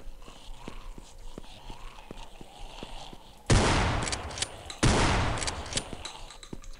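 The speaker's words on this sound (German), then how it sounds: "Oh, die Schrotflinte ist cool." A shotgun fires twice in the horror video game Afraid of Monsters, two loud, sharp blasts a little over a second apart, each with a decaying tail, after a quieter stretch of soft ticking game ambience.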